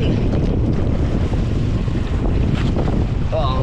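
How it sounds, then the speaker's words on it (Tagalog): Strong sea waves churn around a small fishing boat out for lobster, a continuous loud rushing roar mixed with wind buffeting the microphone, steady throughout. "Oh, malakas ang mga alon."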